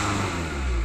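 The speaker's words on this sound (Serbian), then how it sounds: "daj još gas." A 2003 VW Polo 1.9 SDI diesel engine revs loudly and steadily up close in a brief burst of dense engine roar, with no voices over it.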